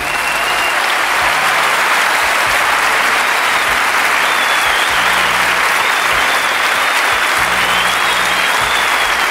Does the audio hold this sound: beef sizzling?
no